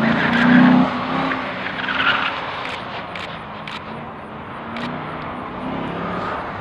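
A fast car passes on a race track, engine note rising and falling with tire noise, fairly loud and close throughout.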